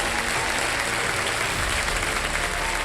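Studio audience on a Kaun Banega Crorepati quiz show set applauds a contestant, a dense, steady wash of clapping that stays loud and even throughout with no voices on top.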